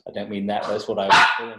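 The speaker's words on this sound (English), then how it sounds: "That's the dog." A dog barks once, close and loud, just after someone speaks during an indoor interview.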